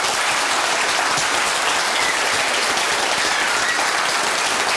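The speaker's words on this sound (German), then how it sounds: "Er verdient sicherlich noch einen Applaus am Ende." Audience applause after a public talk on whether we are alone in the universe, a loud, uniform roar of many hands clapping that holds steady throughout.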